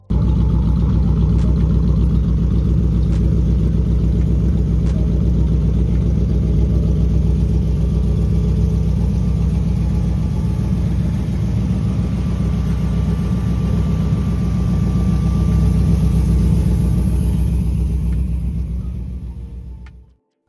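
A 1937 Ford Tudor Slantback sedan built as a pro street hot rod runs steadily, its deep loud rumble and idle holding evenly for the whole stretch before cutting off at the end; no one speaks.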